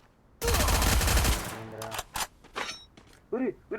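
Rapid MP5 submachine gun fire in the mobile shooter Free Fire, a loud continuous burst of about a second followed by several shorter, sharper shots and game effects, with a voice briefly heard.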